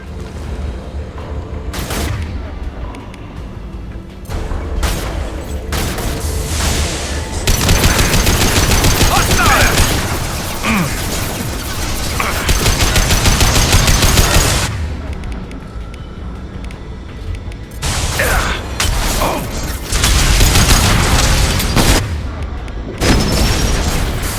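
Heavy gunfire and booming explosions in the video game Mass Effect 2, rapid bursts and blasts running loud and dense throughout with brief lulls, game voices calling out in between.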